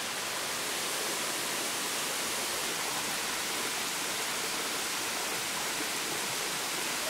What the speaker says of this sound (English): We're just now walking towards the waterfall.